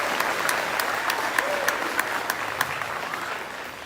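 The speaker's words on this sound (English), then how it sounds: "and you can give them applause, that's okay." Audience applause honoring a middle school band at a pops and awards concert, with steady crowd clapping and a few sharper individual claps standing out, moderately loud and continuous.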